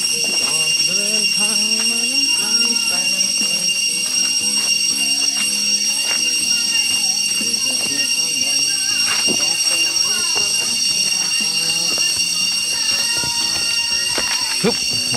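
Cicadas in the forest at Khao Lan in Trat province give off a loud, steady high-pitched drone throughout, while people talk and move about nearby.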